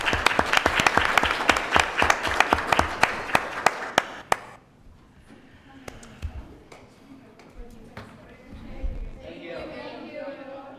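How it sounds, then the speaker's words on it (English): Audience applause for a Youth Hockey Association at a city council meeting, a burst of loud, dense clapping for about four seconds that then fades into scattered claps and murmuring room chatter. "Let's give that Youth Hockey Association one more round of applause."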